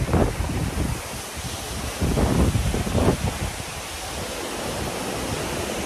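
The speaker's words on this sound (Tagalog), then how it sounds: "napakaganda talaga ng Daday Waterfalls" Steady broadband rush of Daday Waterfalls in Alamada, Mindanao, constant and fairly loud, with brief louder surges from wind buffeting the microphone and no voices.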